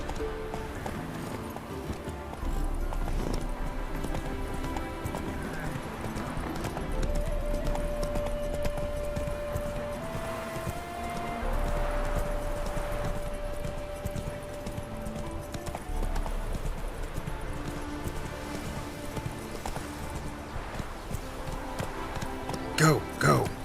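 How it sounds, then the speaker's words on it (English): A horse's hooves clip-clop steadily at a gallop in The Witcher 3 while a rider travels under music and game ambience, with a voice speaking briefly near the end. "Whoa there, Roach."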